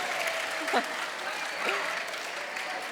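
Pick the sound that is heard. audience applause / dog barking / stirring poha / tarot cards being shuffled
audience applause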